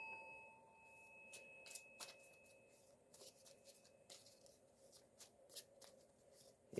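Tarot cards shuffled by hand in a quiet room, a steady run of soft riffling slaps and flutters with sharper card snaps scattered throughout, close and alone with no talk.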